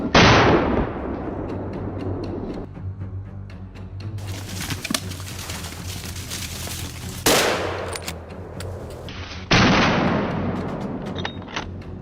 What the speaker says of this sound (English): decisive gunshots ring out until the beast staggers